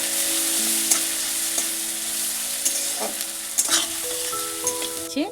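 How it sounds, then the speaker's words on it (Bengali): Grated ginger and spices frying in oil with two bay leaves, a steady close sizzle with occasional stirring scrapes of a spoon in the pan, and no talk. "এবার আদা দিয়ে আমি মশলাটা ভালো করে কষিয়ে নিব"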